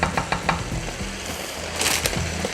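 Meatballs in tomato sauce simmering and sizzling in a pan, a close, steady hiss and bubbling. Quick stirring clatter and a brief scrape are mixed in, with no talking.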